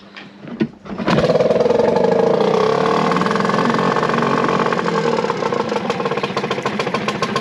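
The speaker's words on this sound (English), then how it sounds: "Okay, so that's her idling." A sailboat's outboard motor is started by hand, catching after a couple of brief pulls, then settles into a steady, loud, close idle with a rhythmic mid-pitched chug. No one speaks.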